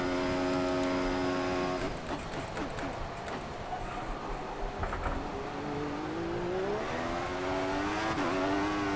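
A Formula One race car in the F1 2014 video game accelerates toward top speed in eighth gear on a straight, its high engine whine climbing steadily through gear changes, loud and continuous.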